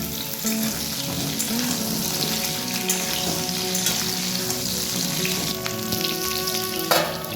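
Pointed gourd and potato pieces fry in oil in a pan, a loud continuous sizzle with occasional stirring scrapes and clinks, no voices.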